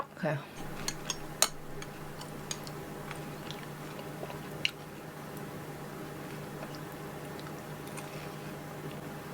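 Someone chews soft cube cheese up close. Quiet wet mouth sounds and a few sharp clicks sit over a steady low hum.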